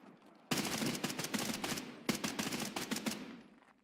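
Rapid bursts of automatic gunfire in Escape from Tarkov, loud and close, with two separate volleys of dense repeated shots filling most of the short clip.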